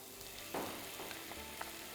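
Soaked barley frying with onions in an oiled pan for a barley risotto, a faint steady sizzle with a soft stirring scrape and a couple of light taps, close and without talk.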